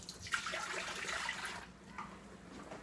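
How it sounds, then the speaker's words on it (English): Vinegar pours in a soft, steady splashing stream for a few seconds while pickle brine is made, quiet and close. "So we're going to put our vinegar in"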